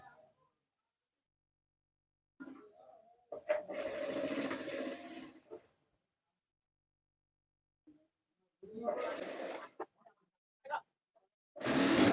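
Sewing machine stitching the side seam of a round-neck maxi dress from the sleeve down, in two short close bursts of whirring stitches separated by pauses, with a final brief burst at the end.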